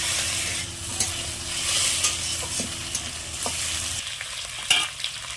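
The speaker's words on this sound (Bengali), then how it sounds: "এবার এই মাছের মাথাগুলো আমি ভেজে নেব।" Fish heads fry in hot oil with garlic paste, chopped onion and five-spice, a steady close sizzle broken by occasional stirring scrapes and clinks, no voices.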